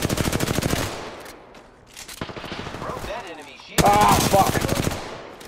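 Rapid bursts of automatic video game gunfire rattle in quick strings, with a short pause between volleys and game sounds and voices mixed in.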